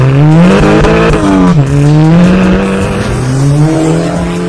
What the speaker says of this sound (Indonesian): Koleksi mobil kedua Mark adalah Volkswagen MK6 GTI